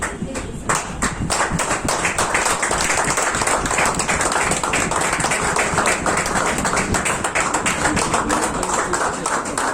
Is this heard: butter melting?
no